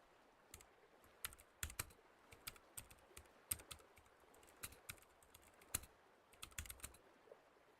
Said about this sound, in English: If I put my mic down to my keyboard, you can hear me typing.